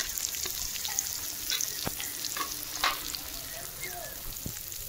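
Onion, green chilies, chopped garlic and capsicum frying in a pan for chicken 65, a dense continuous crackling sizzle with scattered pops and small spatula clicks throughout.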